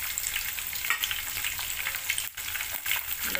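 Green chillies fry in hot oil in a pan for murmura chivda, giving a steady close sizzle with soft stirring scrapes and no voices.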